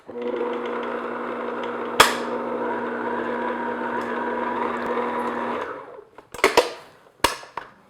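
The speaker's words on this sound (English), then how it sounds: "So I'm just going to use first my paddle attachment just to mix all those ingredients together, just on low speed." Stand mixer fitted with a paddle attachment running on low speed through sticky bun dough ingredients, a steady motor hum with a sharp knock partway through, then stopping, followed by a few clacks and taps.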